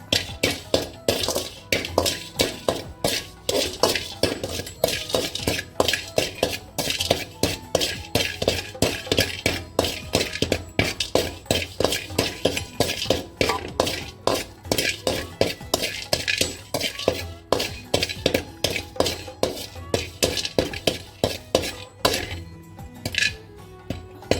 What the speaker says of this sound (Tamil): கொஞ்சம் பெருங்காயம் போட்டு வறுத்துக்கலாம்